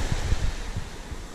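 Rough sea waves wash and rumble around a canoe out on open water, a steady windy surge with low thumping swells and wind buffeting the microphone.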